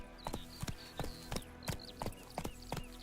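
Horse hooves clip-clop steadily in The Witcher 3, with about nine even footfalls at a relaxed walking rhythm, fairly close but quiet, alongside faint chirping in the background.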